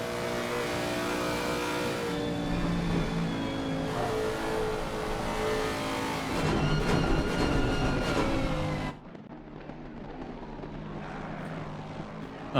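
A Lexus 5.4-litre V8 GT3 race car engine roars loudly and steadily at high revs for about nine seconds, then cuts to a much quieter, distant engine drone at the end.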